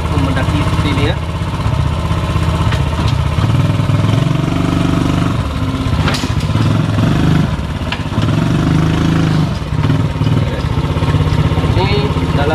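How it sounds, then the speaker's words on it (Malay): A homemade three-wheeled motorbike's small engine labours steadily while climbing uneven ground, a loud continuous idle-to-rev drone close by with rattles and bumps throughout. "Ini adalah kekuatan enjin biasa."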